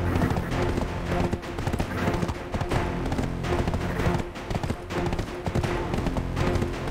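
In the online game Black Desert Online, a horse walks at an unhurried pace, and its hooves clip-clop in a steady, regular rhythm over a continuous bed of game music.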